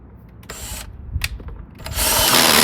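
Short bursts of drilling and ratcheting noise come close and loud, followed by a sustained harsh grinding of a drill biting into a planter while boring holes around its base.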